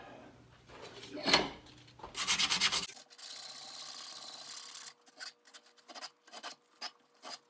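A rattan sword is smoothed by hand, with a burst of rough scraping and rubbing strokes followed by a run of short, separate rasping strokes, fairly quiet and close.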